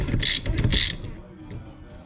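A ratchet loosens an injector bolt on a 7.3L engine with close, crisp bursts of rapid clicking, two quick runs of ratcheting followed by quieter handling noise.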